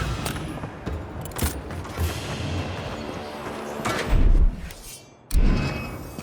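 Gunfire from the fantasy action game Avowed, set in the Living Lands: repeated shots and booming impacts in a dense, loud battle mix, with heavy thuds near the end.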